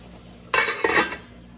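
Methi masala tipped into a pan of chicken and onions, a brief burst of clinking and scraping about a second long, close and fairly loud, then quiet.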